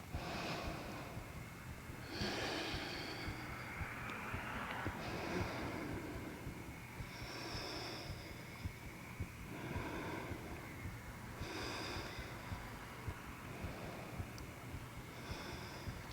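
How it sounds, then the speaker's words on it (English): Slow, deep breaths during a vinyasa yoga flexibility practice, drawn and released in long, even cycles and close to the microphone, with a soft airy hiss and no talking. "Try to deepen and slow your breath here."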